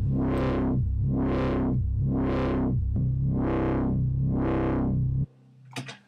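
NI Massive software synthesizer playing a sustained distorted tone whose filter is swept by a sine-shaped LFO, giving five even, rhythmic wah-like swells before it cuts off, followed by a brief faint clicking.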